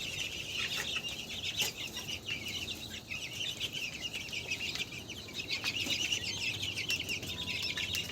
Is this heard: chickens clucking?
yes